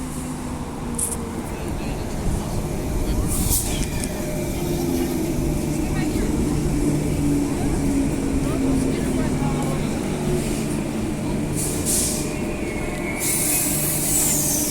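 A Midland line train passes by, its steady rumble and rolling wheel noise holding evenly from start to finish with faint high squeals near the end.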